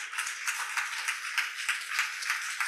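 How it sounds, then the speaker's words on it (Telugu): A church congregation claps in a steady rhythm during a sermon, even repeated claps at moderate loudness with no talking over them. "చప్పట్లు కొడదామా దేవుడికి?"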